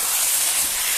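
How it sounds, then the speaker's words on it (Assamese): Black taro frying in a pan for a fish curry gives a steady, close hiss of sizzling oil that runs unbroken through the short stretch with no voices. "এইখিনি দিও এতিয়া মই অলপমান সময় ভাজি ল'ম"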